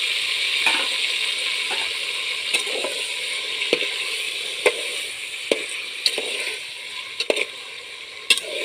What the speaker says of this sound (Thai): ทอดปลาคอน้อยค่ะ